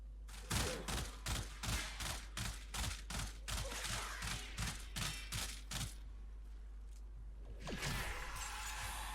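Rapid gunfire from a rifle in the Warframe video game, a steady run of about a dozen evenly spaced punchy shots over several seconds, then a whooshing effect, loud and without talking.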